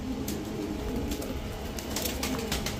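Home-bred pigeons coo softly in a steady low murmur, with faint rustles and wing shuffles in a loft, no voices.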